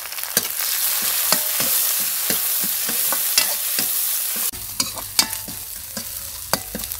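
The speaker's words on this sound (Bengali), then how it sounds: "এবার চিংড়ি মাছটা দিয়ে নেব" Prawns go into a pan of frying onions and sizzle steadily, with sharp clicks and scrapes from repeated stirring. The frying is close and continuous, with no talking.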